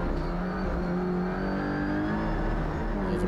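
Audi RS3 LMS WTCR touring race car engine accelerating hard on the Motorland Aragon circuit, a loud, steady, close onboard drone that rises in pitch without a break.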